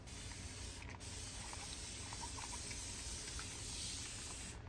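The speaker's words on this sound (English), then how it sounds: "Boy, that really keeps spraying." Aerosol spray paint hisses from a can in one long continuous burst, a steady close airy spray with a brief dip near the start.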